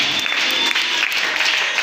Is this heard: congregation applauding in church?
yes